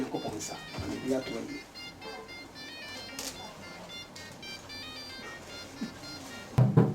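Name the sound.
cell phone ringing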